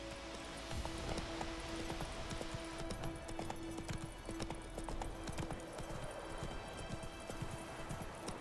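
Horse hooves trot in The Witcher 3, a steady clip-clop rhythm that runs the whole time, close and clear over a low game ambience, with a brief snort or whinny.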